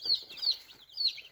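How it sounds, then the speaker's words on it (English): A two-day-old silver-laced Wyandotte chick peeps in high, thin chirps close by, three short calls spaced across a second or so. "There's a little silver-laced Wyandotte."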